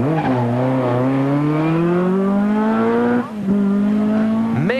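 A historic rally car at speed on a Ypres Westhoek Rally stage, its engine climbing through the revs, a short lift-off gap, then hard acceleration again, loud and close.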